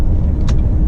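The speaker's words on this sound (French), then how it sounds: "il y a une voiture blanche qui va arriver" A white car's engine rumbles close by, steady and low, with a brief hiss of tires as it passes.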